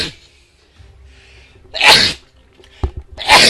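Two loud close sneezes about a second and a half apart, each a sharp burst after a quiet lead-in, with a soft sniff between them.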